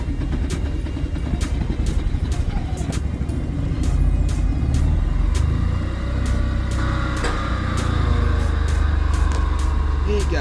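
An abandoned Nissan's engine runs steadily as the gas pedal is pressed, a loud low rumble that swells and roughens partway through, with people talking over it and scattered clicks and knocks throughout.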